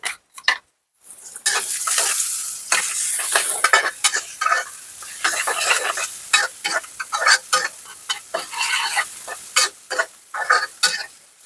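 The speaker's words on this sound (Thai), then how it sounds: "แล้วก็เทียมใส่ใส่เกลือไปนิดนึงนะคะ เวลาเจียวเก็บไว้นานๆ มันจะไม่เหม็นหืนแล้วมันจะกรอบนา" Garlic frying in oil with a pinch of salt, a loud close crackling sizzle punctuated by repeated scraping stirs of a utensil in the pan, starting after a brief quiet moment and continuing in uneven bursts.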